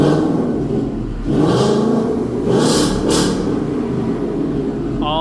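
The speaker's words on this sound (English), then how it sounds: "number 1 is remote rev" A Ford Mustang S650 engine revved remotely with no one inside, a close idle rumble that swells through two quick revs before settling back, ending with a brief voice.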